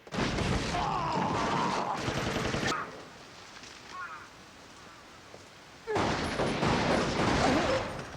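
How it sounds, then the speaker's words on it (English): Shotgun gunfire from the anime Cowboy Bebop erupts in loud, dense bursts, with a rapid volley of blasts at the start, a quieter stretch of ambience in the middle, then another heavy round of firing near the end, with no speech. "this is definitely the first time Spike has used a shotgun"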